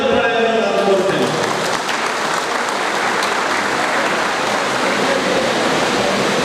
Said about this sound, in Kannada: ಗುಲ್ಬರ್ಗ ನಗರದ ಎಲ್ಲ ದೀಕ್ಷಾ ಪಂಚಮಸಾಲಿ ಗೆಳೆಯರೊಳಗೆ ನಾವು ಜೋರಾದ ಚಪ್ಪಾಳೆಯನ್ನು ನಾನು ಕೋರುತ್ತೇನೆ